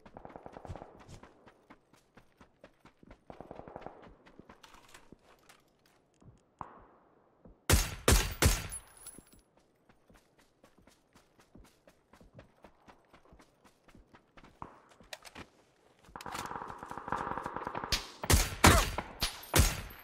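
Gunfire in the battle royale video game PUBG: scattered clicking footstep-like ticks, then sharp loud bursts of shots and rapid firing clustered in two volleys, heard without speech.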